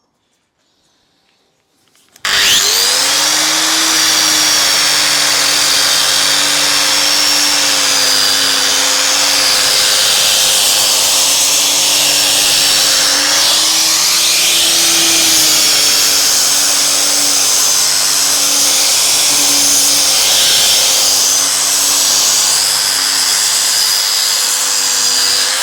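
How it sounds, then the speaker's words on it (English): A grinder smooths a concrete countertop, starting abruptly after a quiet moment and then running loud and continuous with a steady whine and a gritty, abrasive hiss. "we'll just go down to a different size grit grinder"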